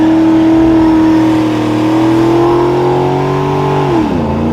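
An LS-swapped G-body car accelerates around a corner. The engine drones loud and close in a steady rising note, then the pitch drops sharply near the end.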